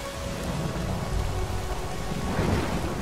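Heavy rain pours steadily with low rumbling thunder rolling underneath in the video game Lara Croft and the Temple of Osiris, a dense, continuous storm wash that swells slightly near the end.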